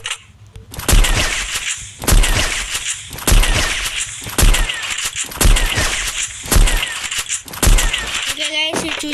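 Sniper rifle gunshots ring out in the mobile shooter Free Fire, with about seven loud, sharp cracks at roughly one-second intervals, each followed by a ringing tail.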